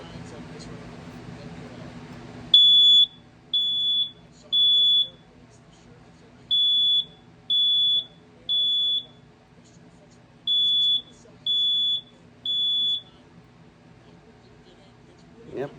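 A System Sensor SYS-HS horn strobe sounding in a smoke-alarm pattern: loud, shrill electronic beeps in groups of three, repeating after pauses, over faint room hum.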